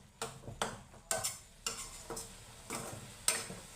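Coconut burfi mixture cooks in a pan while a spoon stirs it, producing repeated scraping strokes about every half second over a soft sizzle, close and fairly quiet.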